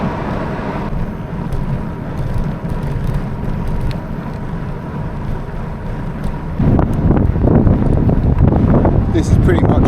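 Wind buffeting the microphone while riding along narrow farm roads in Belgium near Poperinge, a continuous rushing roar that grows louder and rougher partway through, with a voice talking underneath.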